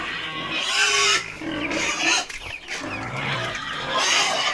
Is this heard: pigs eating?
yes